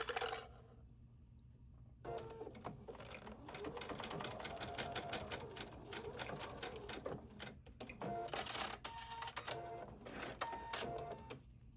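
Sewing machine stitching the top side of a shirt pocket with a 5/8 inch seam and back tacking, a rapid mechanical rattle in bursts with short pauses between runs.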